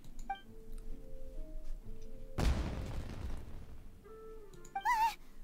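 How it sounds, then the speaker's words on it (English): A fireworks explosion in the Genshin Impact video game: one sudden loud boom that decays over a couple of seconds, set between soft musical tones and chiming game effects. "Was that an explosion? It sounded like fireworks."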